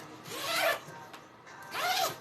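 A zipper slides and rubs against fabric while being lined up to a panel during backpack sewing, with two close, brief raspy pulls separated by a quieter pause.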